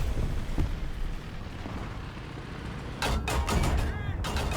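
Tank cannon of the Ro Go in War Thunder firing, a heavy boom over continuous engine and battle rumble, with a sharp burst of impact noise in the second half; speech is present.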